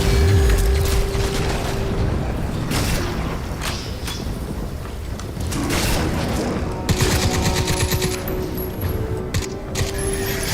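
Heavy-recoil gunfire in the Crysis 3 single-player campaign, with sustained bursts of shots mixed with mechanical clatter and booms, loud and continuous throughout.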